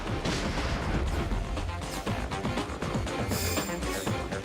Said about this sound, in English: Enemy getting good use out of grenades